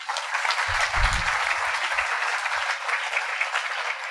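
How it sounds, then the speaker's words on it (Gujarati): Applause from a seated audience at a spiritual discourse, a steady even patter of many hands clapping that stays loud and continuous throughout, with some low thumps underneath. "તાળીથી વધાવો"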